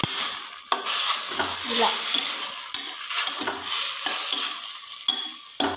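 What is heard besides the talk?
onions frying and being stirred in a pan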